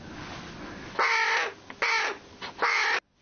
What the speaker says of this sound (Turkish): Kargayı elleriyle beslediler